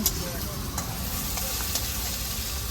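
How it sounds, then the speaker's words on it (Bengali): Steady sizzling of onions and green chillies frying, with occasional stirring scrapes, close and continuous, no talking. "পেঁয়াজ আর কাঁচা লঙ্কা ভাজা হচ্ছে"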